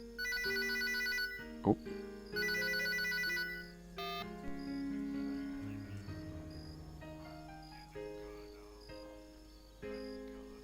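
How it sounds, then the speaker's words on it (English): A real phone rings nearby, with two bright, warbling bursts of trilled tones in the first four seconds over quiet game sounds, and a brief voice. "Now my real phone's ringing."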